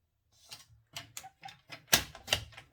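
Paper being cut for a scrapbooked three-drawer chest, a series of about six crisp, fairly close snipping or trimming strokes at an irregular pace, with no talking.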